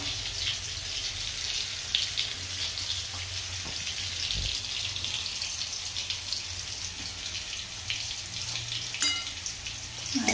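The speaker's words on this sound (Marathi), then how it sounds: "पोळीचा भुगा त्यात टाकते आहे कढईमध्ये." Roti crumbs cooking in melted jaggery in a wok give a steady, close frying sizzle with occasional light clinks and scrapes of stirring throughout.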